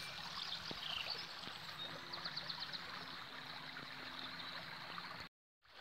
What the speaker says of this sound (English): we just sat here by the river